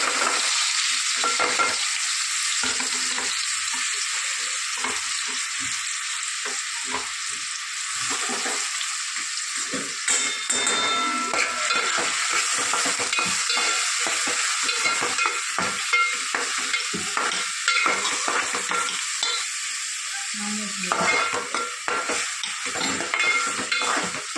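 Onion, garlic, tomato and green chili fry in a pan, a loud continuous sizzle broken by repeated scraping and clinking of a spoon stirring against the metal, with no one speaking.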